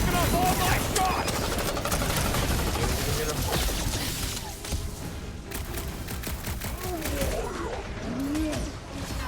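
Rapid gunfire in the Marvel's Guardians of the Galaxy video game, fired at a large robot enemy, keeps up a dense, continuous clatter of shots with voices talking over it.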